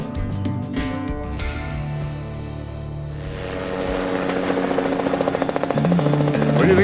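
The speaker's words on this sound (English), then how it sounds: "What do you think that chopper is doing, Guy?" A helicopter's rotor thumps and engine whine grow steadily louder as it approaches over a jade mining site, the rhythmic chopping becoming prominent near the end.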